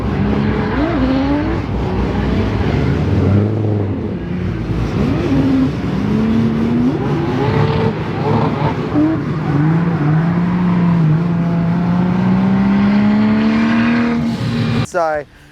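A 1300hp 2JZ-swapped Nissan S15 drift car roars steadily on a dyno, its loud engine pitch climbing and falling through sustained pulls before cutting off abruptly near the end.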